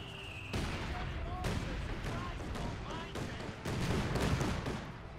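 Mortar fire in Company of Heroes 2, heard as dense overlapping booms and distant battle explosions forming a continuous rumbling barrage, with scattered whistles and impacts throughout.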